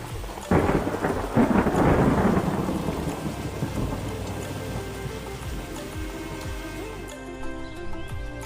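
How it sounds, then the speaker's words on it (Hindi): Heavy rain pours steadily over a village in a cartoon as a loud thunderclap rolls in near the start and slowly rumbles away beneath the continuous downpour. "अचानक गांव में तेज बारिश शुरू हो जाती है, जिससे फसलों पर बुरा असर पड़ता है।"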